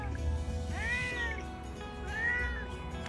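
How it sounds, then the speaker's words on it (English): A cat gives two clear meows a little over a second apart, moderately close but not loud, against a quiet room background. "This cat is constantly meowing."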